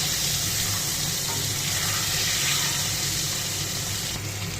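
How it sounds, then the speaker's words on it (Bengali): Eggs frying in oil in a home kitchen pan make a continuous, even hiss close by, with no talking over it. "এবার ডিমগুলো ভালোভাবে ভেজে নেবো"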